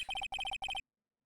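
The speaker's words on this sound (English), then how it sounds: "Somebody's alarm is going off." A phone alarm rings in three quick bursts of rapid electronic trills, each a cluster of bright repeated tones, fairly faint and alone, then stops abruptly.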